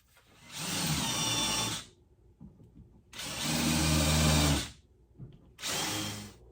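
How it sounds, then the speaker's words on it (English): A drill press whirs loudly in three bursts, drilling countersinks in walnut, separated by short quiet pauses, with faint rustling in between. "drill some countersinks."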